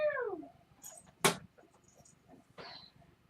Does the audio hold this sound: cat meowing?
yes